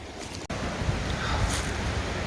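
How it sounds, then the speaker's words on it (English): Ocean waves surge and wash in a continuous roar beside a roadside pullout, broad and steady with gusty wind buffeting the microphone. "Look at those waves"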